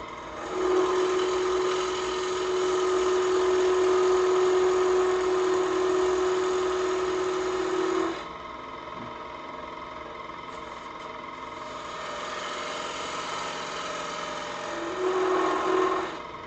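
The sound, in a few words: wood lathe turning a tenon with a parting tool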